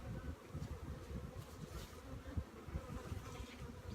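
Honey bees buzz in a dense, continuous drone, close by and steady, with individual wingbeats flickering through the hum.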